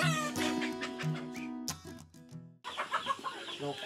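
Chickens on a small poultry farm on Negros Island in the Philippines cluck and squawk in a dense, overlapping chorus, close and loud, with a brief lull partway through before the flock noise resumes.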